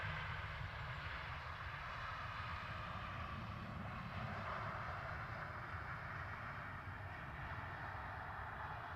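Steady broadband jet engine rumble from an aircraft at London Stansted Airport in very low visibility, holding at a constant distance for the full stretch with no talk over it.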